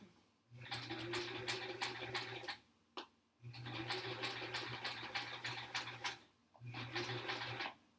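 A sewing machine stitches a scant seam on a quilt block in three bursts of rapid rhythmic clatter, separated by short pauses, at a fairly quiet level.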